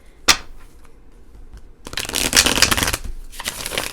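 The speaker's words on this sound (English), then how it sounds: "This one is actually pretty comfortable to shuffle as well." An Albano-Waite tarot deck is riffled and shuffled up close: one sharp snap at the start, then a dense, loud flutter of cards after a pause, followed by a shorter burst.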